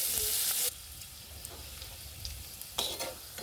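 Finely chopped onion fries in hot oil with whole cumin and a dried red chilli, giving a bright, close sizzle, then a quieter, steady crackle, with a few short bursts of stirring.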